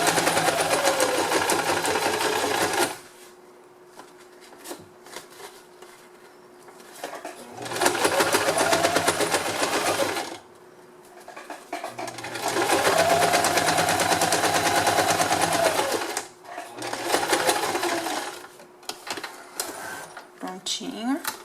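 A sewing machine stitches a straight seam while binding a lunch-box carrier, running in loud bursts of rapid rhythmic clatter separated by pauses, with someone talking in the quiet gaps.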